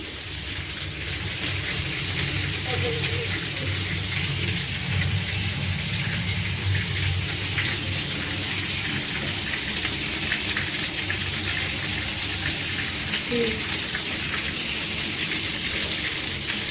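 Muddy water gushes steadily out of a radiator being flushed at night, a continuous broadband rush of pouring water held at an even level throughout, with no talking.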